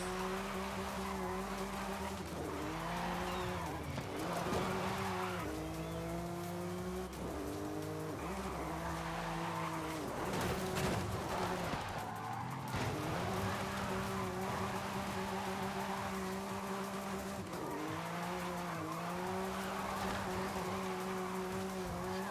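Car drifting in Forza Horizon 5 during a storm, with a steady engine drone, sweeping revving pitch changes and tire squeal throughout, loud and continuous under game music-like tones.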